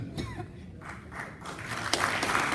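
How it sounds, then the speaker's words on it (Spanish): A seminar audience at a 2019 event on corruption and business claps for a guest commentator, a soft, fairly distant patter of applause that swells slightly toward the end. "Un aplauso para el doctor José Verona, reconocido comentarista."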